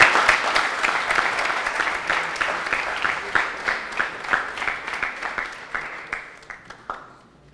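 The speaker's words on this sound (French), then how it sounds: "sous vos applaudissements bien sûr" Audience applause greeting the guest of honour at a public event on Thomas Sankara's trial: a dense burst of clapping that thins out over several seconds into a few scattered, distinct claps near the end.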